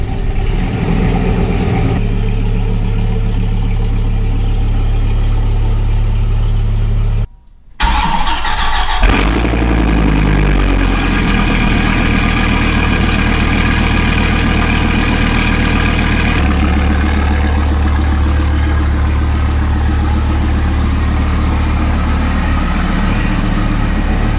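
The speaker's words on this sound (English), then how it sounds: "let's do a swap out, get a cold start on both" A Dodge car engine cold-starts with a short cranking burst, then settles into a steady, loud rumbling idle that runs on alone and close by.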